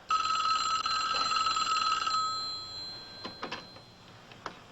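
An old-fashioned telephone bell rings loudly at a fire department for about two seconds, then stops and leaves a few faint clicks and taps.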